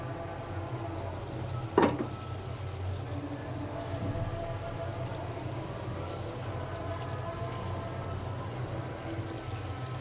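Poma fish going into hot spiced oil in a pan sets off a sharp splash and hiss, then settles into a steady, soft frying sizzle that continues throughout.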